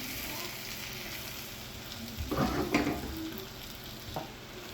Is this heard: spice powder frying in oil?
yes